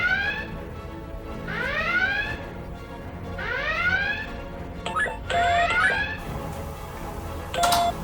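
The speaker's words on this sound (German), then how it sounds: "Alarmstufe Rot, Kampfstation besetzt." A starship red alert alarm from a Star Trek fan production whoops in repeated rising sweeps, loud and close, with electronic beeps and tones layered in toward the end.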